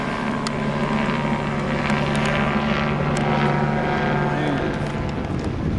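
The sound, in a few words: police helicopter flying overhead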